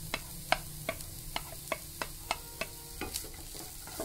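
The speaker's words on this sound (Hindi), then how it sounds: "चिकन भुनने बाद ये पत्ता गोभी, गाजर, ये पूरे स्प्रिंग ऑनियन," Cabbage, carrot and spring onion go into a pan with chicken for stir-frying, a spatula scraping and tapping in regular strokes roughly twice a second over a faint sizzle, with no talking.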